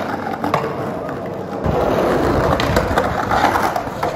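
A skateboard rolls across a concrete bank scattered with seaweed, making a loud, continuous gritty roar that intensifies midway, close and with no talk.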